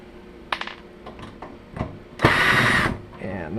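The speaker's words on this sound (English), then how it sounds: "so we're going to go ahead and unscrew that" A power screwdriver unscrews a screw from the back of a computer case: several faint clicks and taps, then a short burst of whirring motor lasting under a second.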